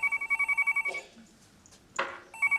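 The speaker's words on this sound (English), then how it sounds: "Ah, this will be Peter ringing to say that he's not speaking to us" A telephone rings indoors in a sitcom, two bursts of rapid trilling bells separated by a pause with a brief noise in between.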